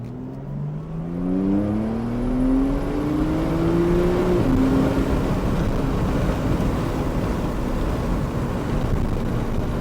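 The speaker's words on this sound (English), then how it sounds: "let's see what the wind noise is like" Wind noise in an open-roof Porsche Targa driving on a freeway, a loud steady roar with the engine note rising and falling underneath, continuous and close throughout.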